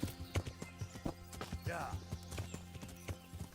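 Horse hooves clip-clopping in the medieval video game Kingdom Come: Deliverance, a steady trotting rhythm with a brief whinny-like sound midway, layered under game ambience and speech.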